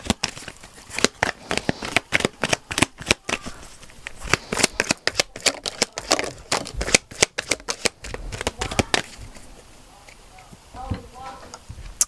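Oracle cards being shuffled by hand, a busy run of quick papery riffles and slaps that gradually thins out, with a voice talking in the background.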